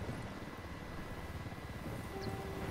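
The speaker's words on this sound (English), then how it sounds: "We got a chopper coming in." An approaching helicopter in Ghost Recon Wildlands gives a steady low thrumming rotor drone, moderately distant and continuous, with no voices over it.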